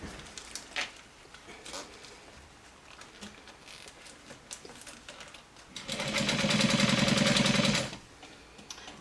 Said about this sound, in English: I'm top stitching now the same way that I did before